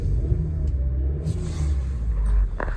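A Skoda Roomster 1.6 automatic engine revved while parked, a steady low rumbling drone that swells slightly, heard close and alone for a few seconds.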